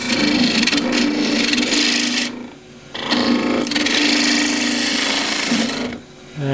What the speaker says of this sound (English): Now on the inside, I'm going to back hollow